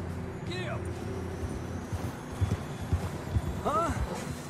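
Horse hooves clip-clop in Red Dead Redemption 2, a few uneven soft thuds under game dialogue, with a couple of short whinny-like calls.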